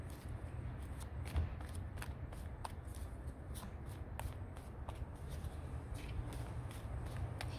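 Tarot cards are shuffled by hand in a quiet room, a soft continuous riffling with small crisp flicks and taps spaced irregularly over a low, faint background hum.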